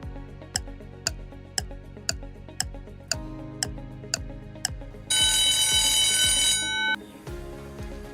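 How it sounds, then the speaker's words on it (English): A quiz countdown timer ticks in a steady, evenly spaced rhythm over a low droning backdrop, then a loud, sustained electronic alarm rings for about two seconds before cutting off. "Your timer starts now."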